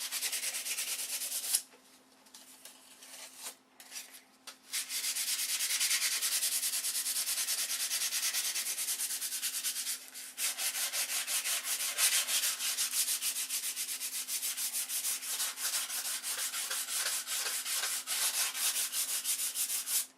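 Sandpaper of 320 grit rubs back and forth during stack sanding, a close, steady raspy scrubbing that pauses briefly near the start and again around the middle, with no talking.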